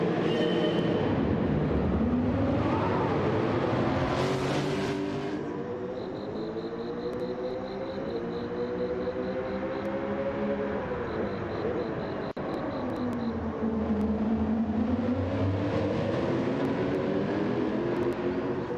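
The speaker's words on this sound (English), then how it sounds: "Can you hear the car noises? The brum brums." Car engines in a racing video game drone steadily, their pitch rising and falling as the revs change, with a faint beeping pulse under them for a stretch.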